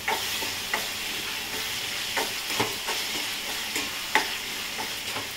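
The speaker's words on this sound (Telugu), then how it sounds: "ఇప్పుడు మనము ఈ రొయ్యలు వేసేసుకోవాలండి" Prawns are stirred into a frying village-style curry, a steady oily sizzle broken by repeated scraping stirs of a spoon in the pan, close up with no talk.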